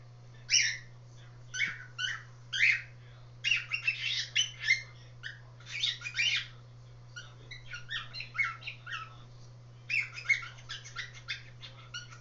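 Young cockatiels repeat their father's flock call in bursts of bright, chirpy whistles, a quick irregular series of calls close by over a steady low electrical hum.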